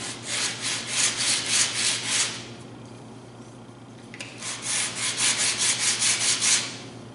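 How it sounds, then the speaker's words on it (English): Wooden guide of a barrel taper jig for a table saw being hand-sanded with 80 grit sandpaper, steady rhythmic back-and-forth rasping strokes in two close, loud bursts separated by a short pause. "There's some dark areas on the guide, and I'm going to sand those off."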